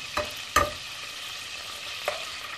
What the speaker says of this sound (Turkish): Salçamızı kavuralım biraz.